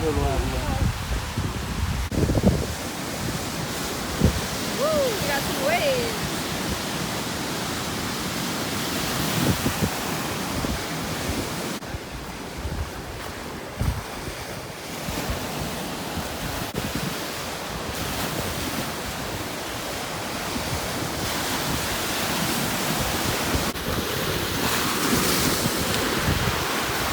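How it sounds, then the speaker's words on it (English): Lake Superior surf washes in and out steadily at Pictured Rocks, Michigan, mixed with gusty wind buffeting the microphone, and voices talk now and then over it. "woo, we got some waves."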